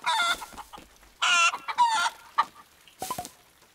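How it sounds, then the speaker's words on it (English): Cartoon hen clucking in a barn, several loud, close bursts of squawking clucks with short pauses between them, no speech. "Don't worry, Mrs. Hen."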